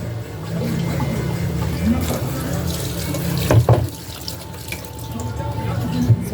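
Water poured from a tap into a pot while cooking tilapia with salt and vinegar, a continuous splashing flow at close range with a few clinks of cookware.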